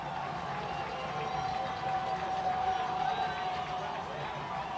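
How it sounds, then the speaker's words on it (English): Crowd noise from Naperville North Huskies fans at a high school football game, a steady broad roar swelling slightly mid-clip, with a faint sustained whistle-like tone and commentary voices over it. "Husky crowd getting into it."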